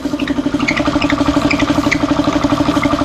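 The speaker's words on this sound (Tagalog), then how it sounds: "Ayan po, kompresor" Air compressor running with a steady, close, pulsing motor drone and a rapid regular throb, loud and continuous with no talking.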